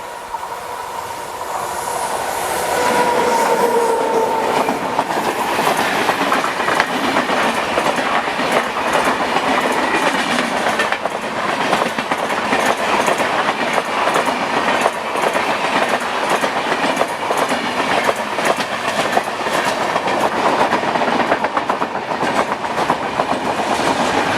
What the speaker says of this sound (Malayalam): അതിലൂടെ ട്രെയിൻ വരുന്നത് അപ്പോൾ അതിൻ്റെയൊക്കെ സൗണ്ട് നിങ്ങൾ കേട്ടോണേ